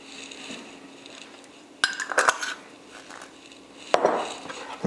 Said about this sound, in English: We're going to go ahead and mix in our cayenne pepper.